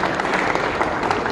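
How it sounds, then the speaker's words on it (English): Dense audience applause at a baseball team caravan question-and-answer event, a brief burst of many hands clapping together, fairly loud and close. "Big round of applause for Thomas"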